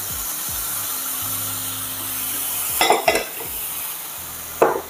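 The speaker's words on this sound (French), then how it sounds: "Et là, on va pouvoir mélanger tous nos éléments" Eggs, white wine and olive oil whisked together in a bowl for a savory loaf cake batter, a low steady background broken by two short bursts of brisk mixing near the end.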